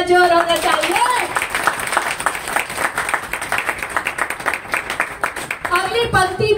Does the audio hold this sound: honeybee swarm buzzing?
no